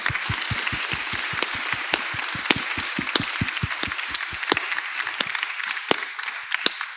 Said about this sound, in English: Can you please join me in thanking them with a huge round of applause?